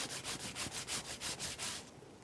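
A turnip is grated on a grater in about ten quick, even back-and-forth rasping strokes, close and moderately loud, ending abruptly.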